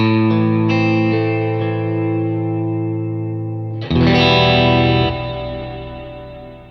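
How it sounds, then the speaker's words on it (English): Sustained guitar chords through a Fender Tone Master Pro's Celestial reverb, swelling in a lush, shimmering ambient wash with a deep downward pitch-shifted layer, a new chord struck midway and ringing out. "So that's the Celestial reverb"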